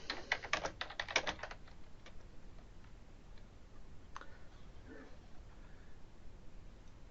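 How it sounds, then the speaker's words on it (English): Computer keyboard typing in a word processor, a quick burst of close, crisp keystroke clicks at the start, then sparser scattered taps and a faint voice-like tone in a quiet room. "So you can type into here as you would in any word processor."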